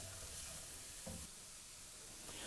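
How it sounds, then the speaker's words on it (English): Onion, ginger, garlic and diced carrots being stirred in a pan, giving a faint steady sizzle with soft scraping stirs, low and continuous with no talking. "add the diced carrots into it and just mix them together"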